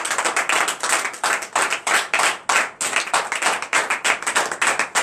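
A church congregation claps together in a fast, steady rhythm during morning prayer, loud and close, with no voices over it.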